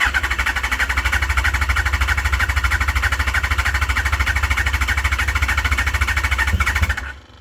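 A 2005 Yamaha FZ1 motorcycle engine, just fuelled with gas in the carbs after sitting, runs at a steady, close, loud idle with an even rapid pulse, then cuts off abruptly near the end.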